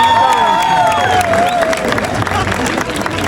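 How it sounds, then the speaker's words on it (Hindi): A literature festival audience claps and cheers loudly and continuously, with a dense wash of applause and some voices mixed in. "एक बार भरपूर तालियां बजाइए प्लीज"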